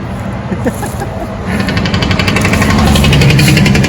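A loud, steady rumble of road traffic noise fills the air, with a rapid mechanical pulsing like heavy machinery or a jackhammer growing stronger partway through.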